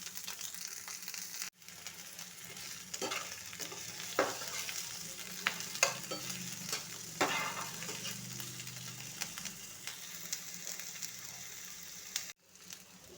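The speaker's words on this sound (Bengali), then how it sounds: "এবার এর ভেতরে দিতে হবে কাঁচা লঙ্কা, আদা ও রসুন। এবার ভালো করে নাড়াচাড়া করে নিতে হবে।" Green chilies, ginger and garlic sizzle steadily in hot oil in a pan for an egg korma masala, with a spatula scraping and stirring through it and two brief breaks in the sound.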